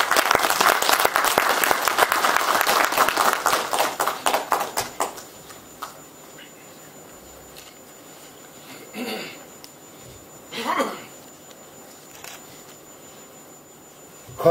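An audience applauds loudly at an opening ceremony, dense clapping that builds and then thins into scattered claps before fading, followed by quiet room noise with a couple of brief bumps.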